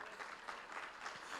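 Crowd at a live youth conclave event cheering and applauding, a dense continuous wash of clapping and shouts at steady loudness throughout.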